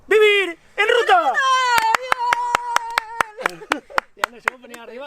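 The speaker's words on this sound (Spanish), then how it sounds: "aplaudimos a nosotros mismos" Two people at a cycling-travel talk clap for themselves, a short run of about a dozen sharp, evenly spaced claps heard close up while voices speak and vocalize over them.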